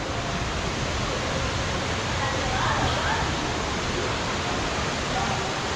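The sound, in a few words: waterfall in the background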